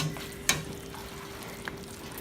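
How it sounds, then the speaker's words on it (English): Asparagus and spinach risotto is stirred in a pan, with one sharp spoon clink against the pan, a second fainter tap and a soft low bubbling underneath, quiet and close. "So I'm gonna give that a stir"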